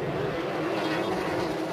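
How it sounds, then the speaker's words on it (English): A two-stroke personal watercraft engine roars at a boat race, its raspy exhaust note sustained and loud throughout the short stretch. "hear that exhaust note. Kathleen Maurer running a two-stroke personal watercraft engine"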